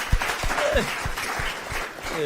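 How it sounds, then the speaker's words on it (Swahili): Applause from a school audience at a Kiswahili performance at Loresho secondary school, a short burst of clapping with some voices and a sung or spoken tone over it. "Makofi tumpigie."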